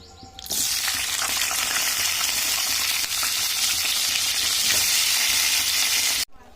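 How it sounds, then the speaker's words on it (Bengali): Potatoes frying in hot oil in a pan give a loud, continuous crackling sizzle that starts abruptly and runs steadily for several seconds before cutting off sharply, with no voices. "এবার আমি আলুগুলো ভেজে নেব।"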